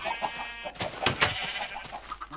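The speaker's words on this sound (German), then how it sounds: "da ist noch ein Huhn, das sich verlaufen hat" In the Minecraft video game, a chicken gives short, quiet clucks and squawks, a few brief calls spread over a couple of seconds.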